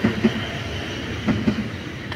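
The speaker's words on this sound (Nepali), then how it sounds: "ट्रेन स्टेसनमा चाहिँ आइपुगेँ।" A train at a railway station, with rhythmic clickety-clack bursts of wheels over rail joints near the start and again around the middle, set against steady rumbling station background noise.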